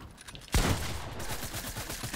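A single loud gunshot from a one-on-one video game shootout cracks out near the start, followed by a lingering noisy tail and faint background game sounds.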